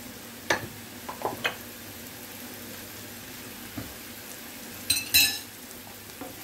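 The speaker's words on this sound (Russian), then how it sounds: "теперь обжариваем шампиньоны с луком." Champignon mushrooms with onion frying in a pan, a faint low sizzle with scattered crackles and a few louder clatters and stirring scrapes near the end.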